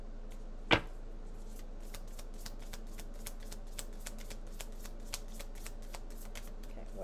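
Tarot cards are shuffled close up in a rapid, even riffle of crisp flicks lasting several seconds, with one sharper tap near the start and no talking over it.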